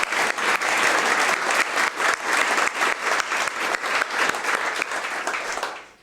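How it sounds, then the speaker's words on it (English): An audience claps steadily and loudly for several seconds, a dense wash of applause that fades out at the end. "give another round of applause to all the courageous individuals"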